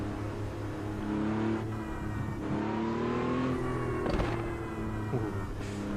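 Porsche RSR race car in Automobilista 2 revving with a throaty, steady engine drone, pitch climbing and falling through gear changes, heard up close with no voices.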